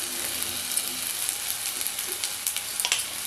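Chopped tomato and grated coconut sauté in a pan, giving a close, continuous hiss of frying with a few light stirring scrapes over the short stretch.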